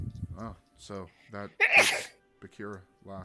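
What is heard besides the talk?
a sneeze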